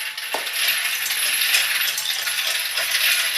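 Shells drop from an ammunition reloader collator into its feed tube, giving a busy stream of small metallic clinks and rattles that go on steadily, close and fairly loud.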